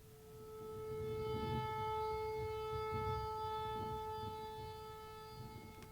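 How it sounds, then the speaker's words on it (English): A distant malfunctioning tornado siren drones on a steady tone, swelling slowly in loudness then fading slightly, with faint rumbling underneath. "it's likely just a malfunctioning tornado siren, like this."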